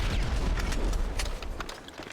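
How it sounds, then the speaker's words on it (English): An RPG rocket explosion in a video game played on PS5, heard as a dense, rumbling blast with crackling debris that fades over about two seconds. "What about the RPG? Oh, you can hear the explosion."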